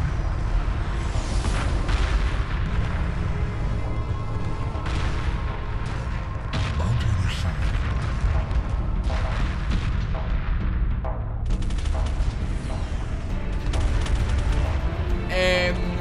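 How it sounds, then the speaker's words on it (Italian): Continuous heavy rumbling blasts and booming explosions in a dense, loud space battle in the game Homeworld Remastered, with crackling bursts layered over a deep roar. "Che esplosione, ragazzi."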